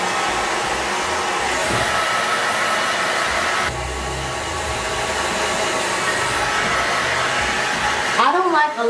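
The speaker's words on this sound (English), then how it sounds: "I'm gonna blow dry it on cool, and I'm going to hold it" A hair dryer on its cool setting blow-drying natural hair, running as a close, steady roaring whoosh throughout, with a short disturbance at the very end.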